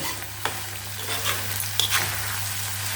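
Eggs and an omelette are stirred through tomato gravy in a pan, a steady sizzle under a low hum with a few soft scraping clicks of the spoon.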